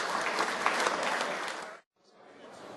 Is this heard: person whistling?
no